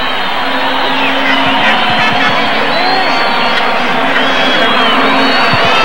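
A stadium crowd during substitutions late in the 1997 Brazil vs Wales friendly in Brasília gives off a loud, unbroken roar with scattered cheers and whoops, and a commentator's voice runs underneath.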